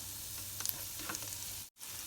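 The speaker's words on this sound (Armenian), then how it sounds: "Տաք զիթայուղի մեջ ես ավելացրել եմ մանր կտրատած սխտորը եւ կոճապղպեղը" Finely chopped garlic and ginger sizzling in hot olive oil for a Veg Manchurian sauce, a steady close crackle with a few small pops and a brief dropout near the end.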